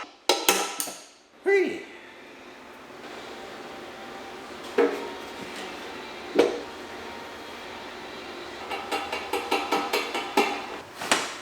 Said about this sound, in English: first he needs to knock it back in place with the slide hammer